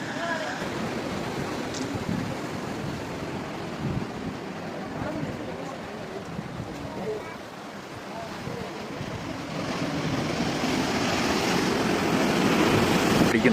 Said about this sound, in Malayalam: കണ്ടോ, എന്നാൽ വലിയ വലിയ തിരമാലകളാണ്.